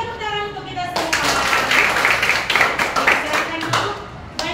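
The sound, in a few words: class applause, clapping hands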